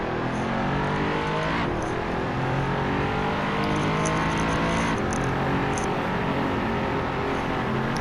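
Several GT race cars in a Hot Wheels racing game, their engines droning and revving steadily and loudly together throughout with a brief shift in the middle, no talking over them.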